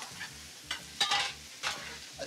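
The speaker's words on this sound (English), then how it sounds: "we're always sauteing garlic, we're always sauteing onions" Garlic and onion sautéing in a pan, a soft steady sizzle broken by a few brighter bursts as the pieces are stirred, close and fairly quiet without speech.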